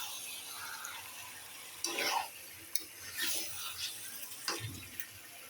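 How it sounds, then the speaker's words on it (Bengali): A spoon scrapes and stirs meat in a cooking pot with soft wet squelches and a few sharper clinks against the metal, faint and close over low kitchen background noise. "এখন সুন্দরভাবে কিন্তু নাড়া দিয়ে ঢাকনা দিয়ে ঢেকে দেবো"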